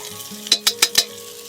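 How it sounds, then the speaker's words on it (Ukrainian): Vegetables sizzling in hot oil in a cauldron for shulyum soup with a steady crackle, broken by four quick stirring scrapes in a row. "Занурили в масло і хай смажиться"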